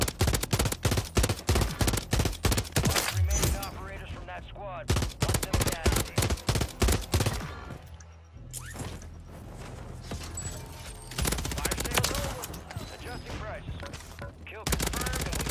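Automatic rifle fire from a Rival 9 in Call of Duty MW3 Warzone rattles in rapid close bursts, broken by brief pauses, with a player talking over parts of it.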